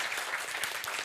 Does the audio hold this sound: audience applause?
yes